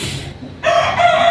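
Early-morning rooster crowing close and loud, a single crow that swells up sharply partway through and holds its strained, nasal note to the end.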